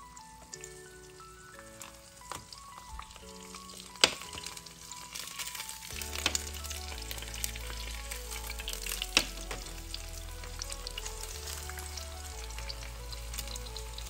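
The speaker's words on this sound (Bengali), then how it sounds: "ডিম ভাজা এই পর্যায়ে আমি একটু তোমাদের জন্য উল্টিয়ে দিচ্ছি।" An egg sizzles and crackles in a hot small frying pan, steady frying with a couple of sharp scrapes or taps from a small spatula, close and fairly quiet, with no voices.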